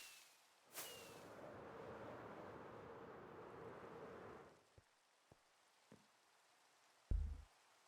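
Rain pours down at night in a video game, a steady close hiss that cuts off abruptly, leaving a few faint clicks and then a short, louder thump.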